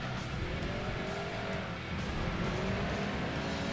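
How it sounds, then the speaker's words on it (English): A turbocharged racing car engine in Gran Turismo 2 roars steadily at high revs, with a faint whistling turbo whine riding over the continuous, loud drone. "You can hear the turbocharger on whatever the hell that is."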